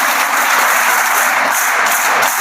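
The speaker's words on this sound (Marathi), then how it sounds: "सगळ्यांनी टाळ्या वाजवू आपण त्यांच्याच्या." An audience applauds at a felicitation event for an academy's teachers and students, with steady, dense clapping that fills the room and holds throughout without voices.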